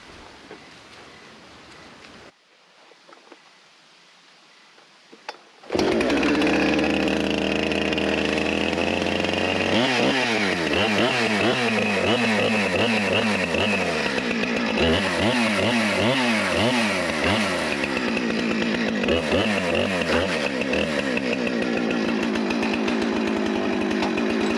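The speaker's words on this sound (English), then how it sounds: "So I've got to take the chainsaw and cut a little notch here to get the clamp in." After a few quiet seconds, a chainsaw roars to life and cuts a notch in a log for milling, its engine pitch rising and falling as it bites into the wood.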